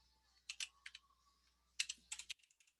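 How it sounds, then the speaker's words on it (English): Typing on a computer keyboard during a PowerPoint lesson: two short bursts of close, crisp key clicks separated by a pause, quiet and without talk. "We'll click after the word staff. Then we'll go ahead and press Enter. And we'll type in there the word faculty."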